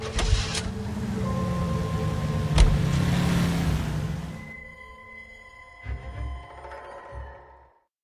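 A car driven in the video game L.A. Noire, a low engine drone that swells and fades with a few mechanical clunks, then dies down to a quieter rumble and tails off near the end.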